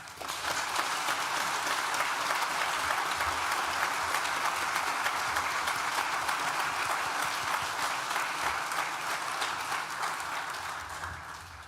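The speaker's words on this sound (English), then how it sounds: "Please join with me now in thanking them with a well-deserved round of applause" Sustained, dense applause from a large crowd at a university graduation ceremony, steady and loud throughout before tapering slightly at the end.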